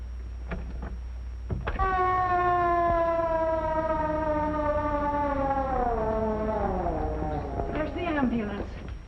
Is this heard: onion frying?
no